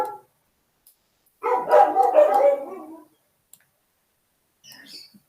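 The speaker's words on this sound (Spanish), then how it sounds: "si quieren corto un segundo el micrófono hasta que se callen, van a ladrar un ratito." Dogs barking and yelping at a home during an online maths class, one loud sustained burst of barks and howls followed by silence and a faint later yip.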